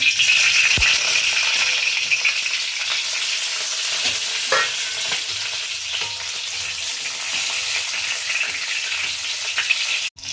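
Onions for chilli paneer roast in a hot pan with a loud, continuous sizzle, broken by occasional stirring clinks and a sharp knock near the end.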